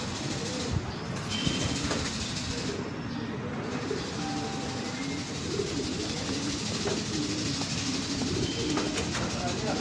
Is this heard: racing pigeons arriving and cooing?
yes